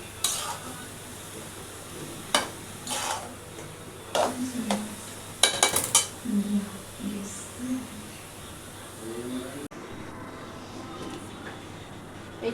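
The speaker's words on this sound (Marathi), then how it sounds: "आता चांगलं मिक्स करून घेऊया तुपामध्ये" A bottle gourd halva mixture is stirred in ghee in a pan, with scraping spoon strokes and soft, uneven clinks against the metal over a steady low sizzle, before everything drops away to near quiet.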